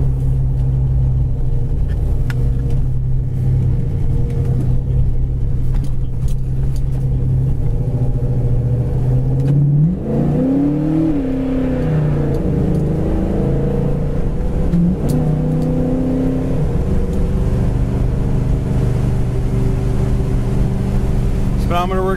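A red 1970 Chevelle Super Sport with a 4-barrel carburetor accelerates on the road, its engine a loud, steady rumble that rises in pitch as kickdown engages, heard from inside the car with some speech mixed in.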